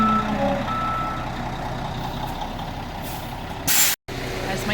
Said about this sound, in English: This is a big truck to try and turn around.